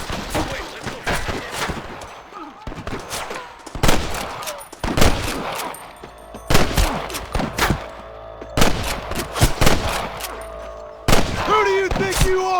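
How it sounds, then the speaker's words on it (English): Bursts of gunfire crack through a Red Dead Redemption shootout with rustlers, sharp repeated shots arriving in clustered volleys separated by brief lulls, some near and loud, others echoing more distantly, with occasional voices between them. "I can hear more gunshots"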